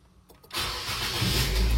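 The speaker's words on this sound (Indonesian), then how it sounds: "saya akan langsung starter tanpa ngegas, tanpa on off" Nissan car engine cranks briefly and then catches, starting without the gas pedal pressed and settling into a loud, steady idle close by.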